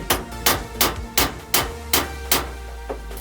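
A hammer strikes a stripped screw to drive it in, as work on a Fiat Doblo Maxi van build goes on: about nine sharp, evenly spaced metallic blows, close and loud, with no talk.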